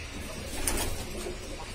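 Shahjahanpuri pigeons, an old maintained breed, give a soft, brief coo close by. The call is faint against a quiet background.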